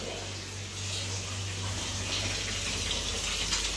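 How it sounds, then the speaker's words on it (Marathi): Water pours steadily from a tap into a bathtub in a room, making a continuous, moderately loud gush with a faint low hum beneath. "हे आहे बाथटब. पाणी नव्हतं, मग त्याच्यात पाणी भरण्यासाठी लावलेलं आहे."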